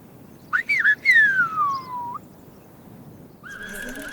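Silbo Gomero, the whistled language of La Gomera in the Canary Islands: a loud, close whistler sends a few short rising chirps, then a long falling glide, then after a pause a steady high whistle, over quiet background hiss.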